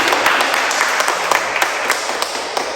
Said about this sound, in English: I think we can clap.